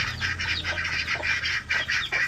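Chickens let out of their coop in the early morning call from close by, a run of repeated clucks and squawks in an uneven rhythm with no talking.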